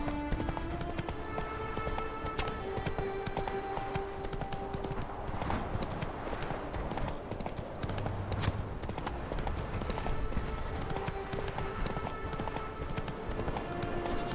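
Hooves clip-clop steadily as a horse trots along a path in The Witcher 3 video game, a continuous rhythmic patter under game ambience and music, moderately close.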